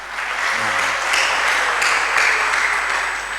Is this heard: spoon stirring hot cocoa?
no